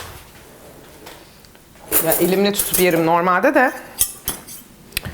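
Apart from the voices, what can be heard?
taking cutlery, fork and knife, from a drawer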